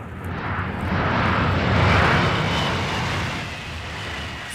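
High-speed TGV train passing on the Paris-Rennes LGV line: a loud, deafening broadband roar that swells over a couple of seconds, peaks, then fades slowly.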